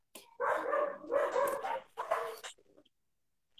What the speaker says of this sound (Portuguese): Cachorro daqui, cachorro daí, uma sintonia.